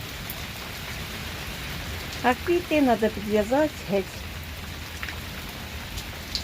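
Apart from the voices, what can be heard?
rain falling outside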